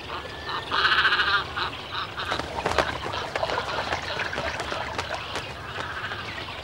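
Cormorant chicks calling from Phragmites reed beds in the Netherlands, a loud nasal chorus early on, then scattered overlapping calls and clicks continuing through outdoor ambience.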